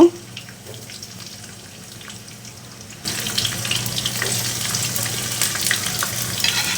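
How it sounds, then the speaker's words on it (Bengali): Cauliflower, carrot and beans drop into hot oil, and the quiet pan bursts into a loud, steady sizzle that keeps going at full strength. "সবজিগুলো এখন ভেজে নেব প্রথমে আমি ফুলকপি গাজর আর সিম দিয়ে দেব"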